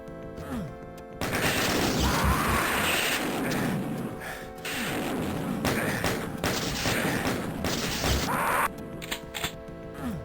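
Weapon fire in a Doom II deathmatch, including plasma gun shots, sounds as dense, loud game blasts and crashes packed across the whole stretch, with brief quieter gaps near the start and end.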